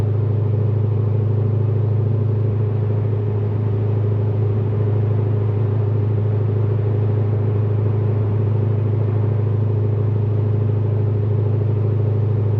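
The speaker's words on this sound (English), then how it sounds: "And we're just going to cruise at that 70 miles an hour for just a few minutes." Cammed, catless Corvette Z06 cruising steadily at about 70 mph near 1,550 RPM, a loud, constant low exhaust drone that fills the cabin without pause.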